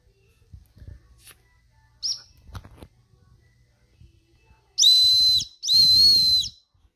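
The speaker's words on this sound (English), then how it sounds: "That's a Tesla Cyber Whistle." A Tesla Cyberwhistle gives two loud, shrill, steady whistle blasts, each about a second long, following soft handling and clicking sounds in a quiet room.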